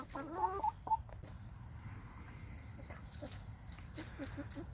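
A backyard flock of chickens raised for about six months gives a few short, faint clucks early on, over a steady low hum of ambient noise with scattered insect-like chirps.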